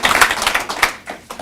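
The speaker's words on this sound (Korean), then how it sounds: "일단 박수 한번 칩시다." Congregation clapping at a church service for the mission association's new name, a brief burst of claps filling the room, loud and near, fading toward the end.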